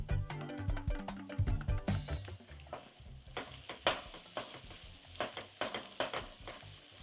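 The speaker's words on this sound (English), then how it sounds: "Just slightly toast the spices" Ground coriander, turmeric, paprika and crushed dried curry leaves toast in a pan with soft crackling and sizzle, faint and close, with spoon scrapes and stirring taps.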